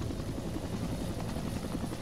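An AH-1W Cobra attack helicopter flying in Arma 2, its rotor a steady, close, continuous chopping drone with no voices over it.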